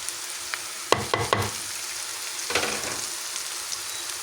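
Onions sautéing in a pan, with a steady sizzle running underneath a few quick bursts of utensil clatter from stirring near the start and again midway.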